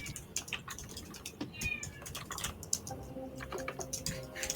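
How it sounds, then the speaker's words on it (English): A cat meows in short, plaintive calls at a moderate distance, repeated several times over a background of keyboard-like clicks and taps. "I hear a kitty."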